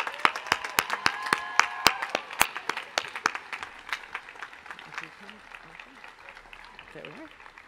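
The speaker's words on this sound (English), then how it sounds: "Please join me in a round of applause for this fine group of young women." Applause from a commencement ceremony audience, heard as a scattered burst of sharp individual claps that is strongest at first and then thins and fades, with faint crowd murmur underneath.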